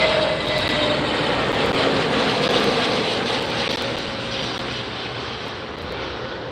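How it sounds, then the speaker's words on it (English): An American Airlines Airbus A321neo jet landing at LAX, a loud, steady broadband engine roar that holds throughout and eases slightly toward the end, with no talk. "That's an Airbus 321 200, Airbus 321 Neo 200 series, flight 2396 on American."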